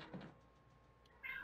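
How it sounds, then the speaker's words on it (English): A house cat meows faintly in the background of a quiet room, one short meow near the start and another at the end, with a soft knock between. "my cat won't shut up"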